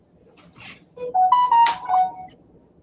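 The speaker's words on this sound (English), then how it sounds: "Emails sound like they coming through." A short run of electronic notification chimes, several bright tonal beeps in quick succession, moderately loud and heard alone apart from faint background noise.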